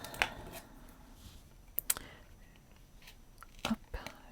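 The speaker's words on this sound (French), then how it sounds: "je perce un petit peu avec ma paire de ciseaux" Scissors piercing a sheet of paper during scrapbook cutting: a few sharp, brief snips and crunches scattered across a quiet background, close by, with no talk.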